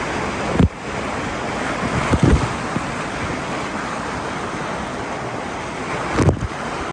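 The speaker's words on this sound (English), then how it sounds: "that was us going down and down the river rapids" Rushing water of the river rapids ride at Aquaventure Water Park in Dubai, a continuous loud roaring wash with a few sharp splashes and gusty wind buffeting, with no talking.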